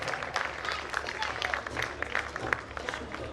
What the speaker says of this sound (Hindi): आप तालियां बजाकर अपना आशीर्वाद स्वागत करें।